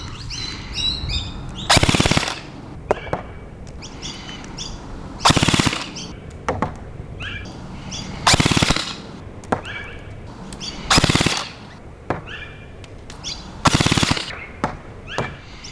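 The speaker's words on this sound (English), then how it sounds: "I'll just fire on full auto, short bursts of about 5 shots, and we'll see how it does." A Double Bell SCAR-SC gel blaster fires full-auto in five loud, evenly spaced short bursts, each a rapid mechanical rattle, with faint clicks and handling noise between them.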